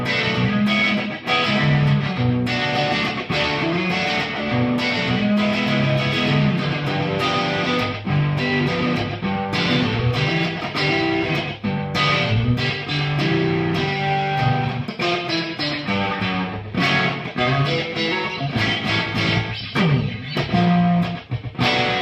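Distorted electric guitar driven into an Echoplex delay pedal, sustained chords and riffs with a compressed, smeared echo tail, loud and unbroken for the whole stretch with no voices.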